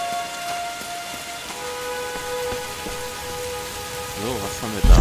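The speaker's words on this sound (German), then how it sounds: "Kaum hat sie ein Tier erlegt, schon regnet es wieder." Steady rain patters in the video game Tomb Raider: Definitive Edition, a continuous hiss of drops under faint sustained game tones, with a louder low rumble at the very end.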